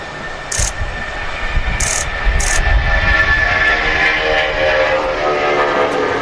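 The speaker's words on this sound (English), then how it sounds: "Here we go, Jet2 757 Alpha Charlie now rolling." A Jet2 Boeing 757 rolls for takeoff at Manchester Airport, a loud steady jet roar building and holding with a rising whine, heard from a distance outdoors with a few brief high beeps near the start.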